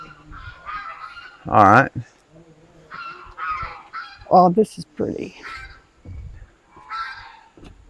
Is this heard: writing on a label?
no